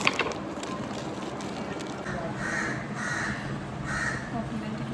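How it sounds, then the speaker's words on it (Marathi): A crow caws in varied tones at a Konkan coastal getaway, a few separate calls at middle distance over steady outdoor background noise, with faint voices in the background. "इथे एक कावळा होता जो वेगळ्या वेगळ्या सुरामध्ये ओरडत होता"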